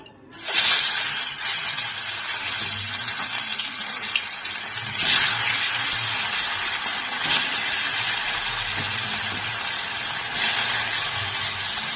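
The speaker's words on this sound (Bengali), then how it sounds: "তেলটা গরম হয়ে গেছে এবার আমি এর মধ্যে মাছগুলোকে দিয়ে দিচ্ছি" Tangra fish dropped into hot mustard oil, sizzling and spitting in a steady, loud hiss with a few sharper bursts as the pieces fry.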